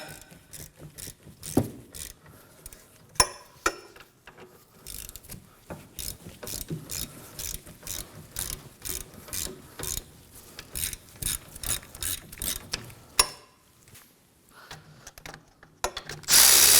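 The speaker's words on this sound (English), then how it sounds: "Using a 14mm socket, we're going to remove the caliper bracket bolts." A ratchet fitted with a 14mm socket works the caliper bracket bolts loose on a Kia Sorento's rear brakes, giving repeated sharp clicking bursts in an irregular rhythm, close and distinct, with no talking.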